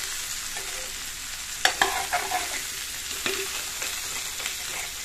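Boiled amla pickle sizzles gently in a hot pan while a spoon scrapes and stirs it, with a few sharper clatters of utensil on metal over a soft frying hiss.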